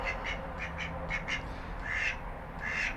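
A pet boy duck quacks several times in short bursts, fairly close, with a low background rumble underneath.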